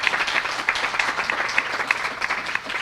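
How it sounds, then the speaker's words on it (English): A church congregation honoring their minister's tenth anniversary breaks into sustained applause, many hands clapping in a dense, lively wash with a few louder individual claps standing out and no speech over it. "I think we should applaud her."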